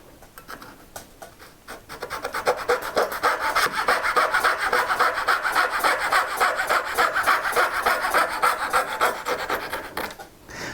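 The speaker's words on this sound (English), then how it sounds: "They allow you to remove a large amount of waste and saw very close to the line." A Knew Concept fret saw cuts dovetail waste in wood with a steady run of quick, close, rasping strokes that begin softly and then hold an even rhythm for several seconds before stopping.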